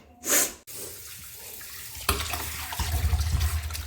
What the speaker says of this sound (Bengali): আমি চাল নিয়ে নিয়েছি এবার ধুয়ে নিই